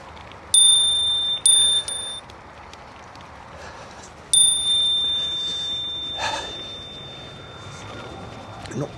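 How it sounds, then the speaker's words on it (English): Bicycle bell on a canal-side bike ride, pinged three times as short bright rings, two close together and one longer ring later, over steady riding noise and wind. "I'm not pinging my bell very well because of my gloves"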